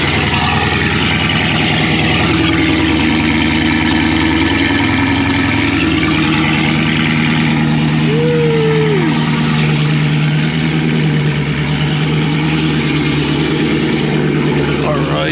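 Dodge Charger Scat Pack V8 running on E85, idling after a cold start on a chilly morning, a steady deep loud burble with a smooth even rhythm and a brief higher whine partway through, no voices.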